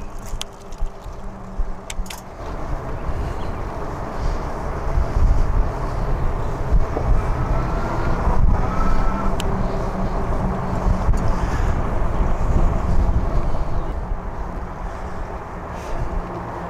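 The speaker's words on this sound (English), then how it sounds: "It is very windy out." Strong wind roars across the microphone during a ride on a fat-tire e-bike on throttle at over 12 miles per hour, a continuous low buffeting rumble with a few brief clicks and rattles.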